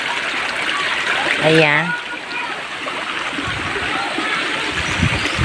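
River water flows steadily in a steady broadband rush, where many children are bathing; a brief voice speaks over the water partway through.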